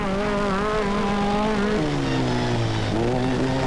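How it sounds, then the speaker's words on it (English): A Renault rally car engine roars steadily at high revs during the 1995 Boucles de Spa rally, its pitch dipping and rising again as the driver shifts, loud and close throughout. "While the Renault sounds as healthy as ever."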